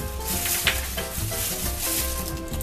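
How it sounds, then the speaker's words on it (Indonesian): Butter goes into water heating in a pan for choux pastry dough, giving a steady close sizzling and bubbling hiss with faint crackles throughout, with no voices. "panaskan air, kemudian masukkan mentega"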